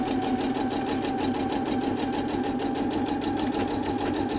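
A sewing machine stitching a doll's dress, running steadily at close range with a fast, even mechanical chatter and a constant hum for the whole stretch, no voice over it.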